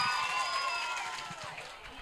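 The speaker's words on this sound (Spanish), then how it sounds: "el aplauso para ella, fuerte, venga" An audience at a concert applauds and cheers, a brief burst of crowd clapping and whistling that gradually fades.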